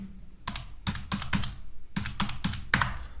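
Keys clatter on a computer keyboard as an Aadhaar number is entered, about ten distinct clicks in irregular short bursts, close and clear with no talking.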